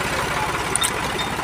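A farm tractor engine runs at a steady idle, close and loud, giving a continuous low knocking rumble with no change in pitch throughout and no speech.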